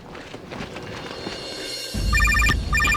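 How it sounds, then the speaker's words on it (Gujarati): A telephone rings in a village comedy scene, breaking in after a couple of seconds as loud repeating electronic trills over a low hum and faint background shuffling. "કોનો ફોન આવ્યો"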